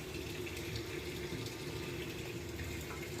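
Godrej top-load fully automatic washing machine drawing in water for the rinse, a steady continuous rush of water running into the drum at an even level throughout.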